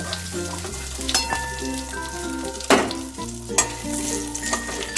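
Prawns sizzling in hot mustard oil in a pan, a steady close frying crackle broken by a few sharp spatters and bursts of stirring, with a low hum and no one speaking.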